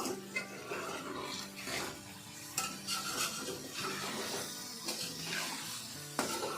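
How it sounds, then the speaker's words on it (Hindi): Finely chopped onions frying in a kadhai for Irani chicken, a continuous crackling sizzle broken by repeated metal scrapes and clanks of a spoon stirring, with a few louder knocks against the pan. "अब प्याज डालने के बाद भी इसको फ्राई करेंगे"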